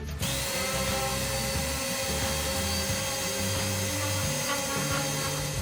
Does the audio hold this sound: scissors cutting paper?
no